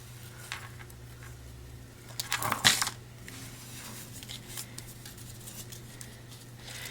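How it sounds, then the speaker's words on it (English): Scissors snip through excess designer series paper trimmed from a paper-crafting project, a short crisp burst of cutting near the middle amid quiet room noise and faint handling rustles. "I'm going to cut off this excess here"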